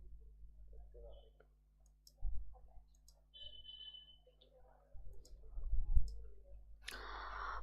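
A computer mouse clicks a few times, with sharp, quiet taps spaced apart. Low hum and faint background sounds run under them.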